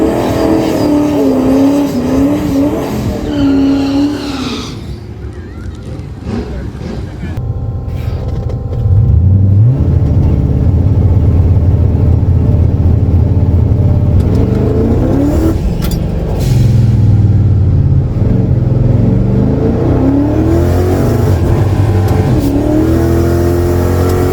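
A turbocharged 1999 Lincoln Town Car makes a quarter-mile drag racing pass in Michigan, its engine loud and close as it idles, launches and roars through rising, shifting gears, with turbo whine and rumble throughout.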